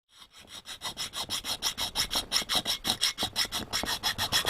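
Round file smoothing a drilled hole in a servicing tool, a steady series of rhythmic rasping strokes, about four or five per second, close and clear with no talk.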